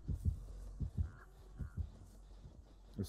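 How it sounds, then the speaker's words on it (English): In the Dead by Daylight video game, a pair of crows caw in short, low, rough bursts spaced through a quiet stretch, close by, with no talking. "There's two crows."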